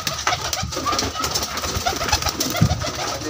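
Pigeons of desi high-flyer and female kalpotiya types coo softly and repeatedly at a bird market stall, with a steady bed of background chatter and crowd noise.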